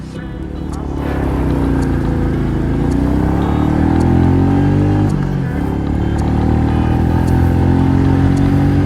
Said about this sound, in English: Revving the motor and putting on the first gear.